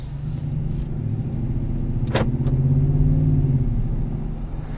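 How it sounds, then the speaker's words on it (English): A deep, throaty exhaust from a 2021 Ram 1500 Laramie pickup with a Borla exhaust rumbles steadily up close, swelling slightly louder midway before settling back, with a couple of faint clicks. "personally I've been enjoying listening to this exhaust"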